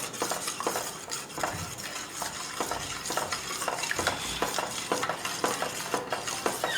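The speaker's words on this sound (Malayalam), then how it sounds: "തേങ്ങയും പഴമൊക്കെ ഇട്ട് നമ്മൾ നന്നായിട്ട് മിക്സ് ചെയ്തുകൊണ്ടിരിക്കുകയാണ്" A ladle stirs grated coconut and banana in a payasam pot, with a continuous rhythm of scraping and clinking against the pot over a soft simmering hiss, close and steady.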